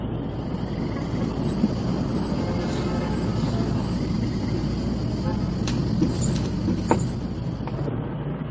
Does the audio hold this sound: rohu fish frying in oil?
no